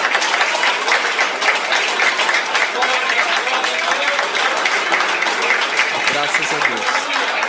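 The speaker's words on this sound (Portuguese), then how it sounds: "Palmas, exalta o Senhor" A church congregation claps in praise to God, dense sustained applause filling the room steadily from start to finish, with voices mixed in beneath the clapping.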